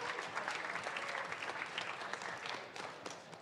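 Audience applause welcoming a moderator and panelist onto the Santander Stage at a conference, a steady wash of many hands clapping throughout, moderately loud and sustained without a break.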